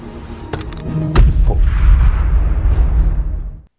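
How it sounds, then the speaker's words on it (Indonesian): Grenade explosion in an action film about revenge on Albanian kidnappers: a loud, deep boom with a rolling low rumble that sustains for a couple of seconds before cutting off, preceded by a few sharp thuds. "Kim juga diminta untuk melemparkan sebuah granat milik Brian, agar Brian bisa mendengar suara ledakan granat tersebut."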